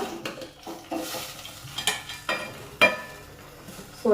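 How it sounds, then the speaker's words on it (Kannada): Leafy greens sautéed in oil in a pan, with a soft sizzle under repeated scraping strokes of a spatula, several distinct stirs spaced about a half second apart, close and without voices. "ಇದನ್ನು ಆದಷ್ಟು ಎಣ್ಣೆಲೆ ಬಾಡಿಸೋಣ."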